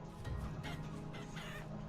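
Chickens in the video game Vintage Story cluck softly against a steady background hum, a few faint overlapping clucks across a quiet two seconds.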